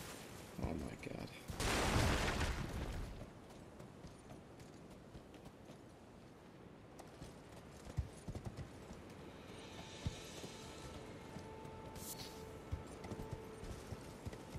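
A horse galloping in the video game Elden Ring, its hoofbeats a steady rapid patter throughout, joined early by a loud burst of combat noise and a few sharp impacts later.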